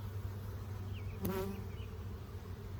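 Honey bees buzzing during a hive inspection after being knocked onto the frames, a steady low hum with a brief louder burst close by midway.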